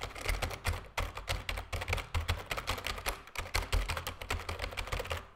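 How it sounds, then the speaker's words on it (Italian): A regular Microsoft computer keyboard being typed on, with rapid, steady, close-up key clicks in a continuous stream and no talking. "Questo invece è l'audio della mia tastiera Microsoft abituale, quella che uso per scrivere."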